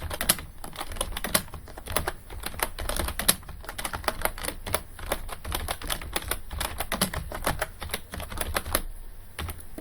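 Keys clatter on a computer keyboard in quick, uneven bursts of close, crisp taps as label text is typed, with no voices.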